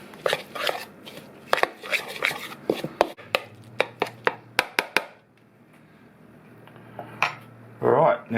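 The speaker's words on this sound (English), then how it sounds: "I'll just mix that up a bit." An olive oil marinade is mixed in a bowl with a utensil, giving a rapid series of sharp clinks and taps against the bowl, close and fairly loud, then a quieter pause and a final louder burst.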